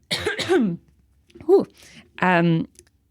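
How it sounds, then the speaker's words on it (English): A few harsh coughs close to the mic, followed by a short pause and a throat-clearing grunt. "sorry, I'm going to cough"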